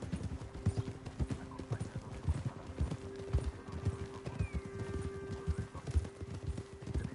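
Horse hooves clip-clopping at a steady trot in the western game Red Dead Redemption 2, close and rhythmic, with occasional whinnies and faint background sounds.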